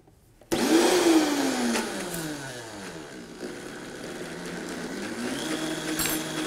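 A kitchen blender mixing ingredients for Mexican cuisine with its lid secured, starting at a low setting. It kicks in abruptly, then gives a loud, steady whirring drone with a slowly wavering pitch that continues with no talk.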